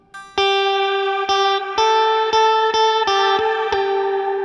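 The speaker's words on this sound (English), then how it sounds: "it's applying some of that drive before the reverb" Sustained electric guitar chords through a Strymon Nightsky reverb pedal ring out with a slightly gritty, saturated tone from drive placed before the reverb, washed in reverb, restruck every half second or so.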